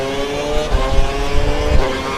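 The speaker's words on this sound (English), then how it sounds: "We think the car behind is running on full revs." A Formula 1 car in a video game of the Spanish Grand Prix screams at full revs, a loud, sustained high-pitched engine whine with slight pitch wavering and no talk.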